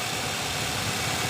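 A car engine idling after its water pump was replaced, a steady, even mechanical hum with a faint vibration, close and unbroken, with no voices.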